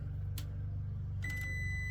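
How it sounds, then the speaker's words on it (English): A multimeter set to continuity beeps while thermostat wiring on a central air-conditioning system is tested: a single steady electronic tone begins partway through and holds to the end over a low, constant hum. "I got the meter set to continuity for the beep"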